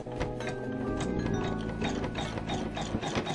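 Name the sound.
embroidery machine sewing a tack down stitch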